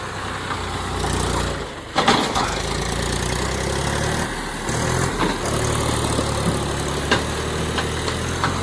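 A tractor loaded with groundnuts idles nearby, a steady mid-pitched engine drone with a few brief knocks and clatters over it.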